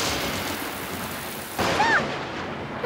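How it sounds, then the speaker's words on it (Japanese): A thunderclap in a Peppa Pig cartoon storm: a steady hiss of rain breaks into a sudden, louder burst of thunder partway through, with a few faint tonal squeaks over it. "今の雷すっごい音だった"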